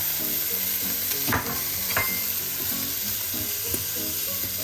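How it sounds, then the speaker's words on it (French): Bacon lardons and chestnuts frying together in a pan, a loud, continuous close sizzle with crackling pops and a few scraping stirs throughout. "les lardons commencent à bien griller. Je baisse le feu et j'y ajoute les châtaignes"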